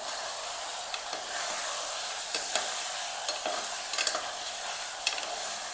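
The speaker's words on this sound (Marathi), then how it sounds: "त्याच्यामध्ये आता मटण टाकायचं, परतवायचं याला चांगलं।" Mutton sautéing in a pan with onion and garlic: a steady, close sizzle with scraping stirs and brief clicks of a utensil against the pan, no voices.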